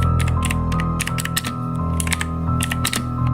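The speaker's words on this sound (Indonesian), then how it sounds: "suara keyboard yang terdengar jelas di telinga Romi." Keys clatter on a computer keyboard in quick, uneven bursts, close and crisp, over a steady low hum and tone in the background.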